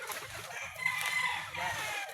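A hen clucks and crows in bursts nearby on a gamefowl farm, with continuous chicken calls filling the short stretch over a low background rumble.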